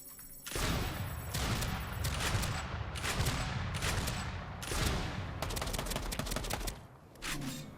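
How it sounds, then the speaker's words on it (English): Sticky grenades and rapid weapon fire in the video game Tribes 3, a dense, loud barrage of bursts and crackling shots running almost continuously, with a brief lull near the end before a final burst. "Let's see how quickly we can kill this with the combination of sticky nades and weapon swapping"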